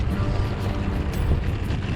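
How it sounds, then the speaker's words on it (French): Wind buffeting a cyclist's microphone on a long road ride, a continuous low rumbling roar with gusty flutter filling the whole two seconds, no voices. "le vent est pas chaud"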